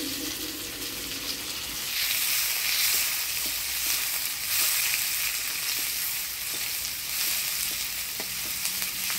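Chopped onions hit hot oil with black cumin seeds in a village kitchen pan, a loud steady sizzle that swells slightly as they are stirred, with no talking.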